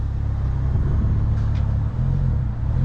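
A car engine drones steadily at close range while being driven up onto a trailer, a low rumble with a slight dip near the end, no one talking.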